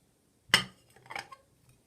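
A cup is set down for a lighter and candle trick, landing with one sharp, bright clink, followed by a few faint rattling clinks that quickly fade.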